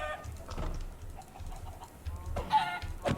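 Crowded chickens in the video game Minecraft, clucking repeatedly in short, overlapping bursts, fairly close and moderately loud, with no talking.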